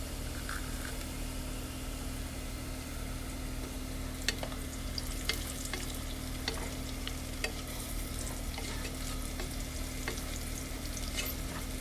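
Cumin, cinnamon and cloves frying with onions and garlic in a pan, a continuous sizzle with occasional sharp stirring taps and scrapes over a low steady hum, without speech.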